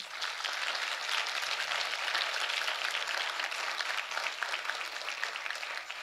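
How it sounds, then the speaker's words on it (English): An audience at a school celebration gives a round of applause, dense steady clapping that stays loud and even for several seconds with no talk over it. "Please give them a round of applause."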